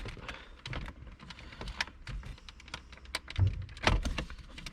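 Small electrical plugs being unplugged from a Nissan NP300 (D23) centre console, a quick series of close plastic clicks and tapping handling noises, a couple of heavier thunks near the end.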